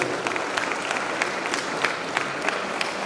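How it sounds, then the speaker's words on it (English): Steady applause from a crowd, a dense patter of many hands clapping at moderate distance, with no voices standing out. "Big round of applause to all the volunteers"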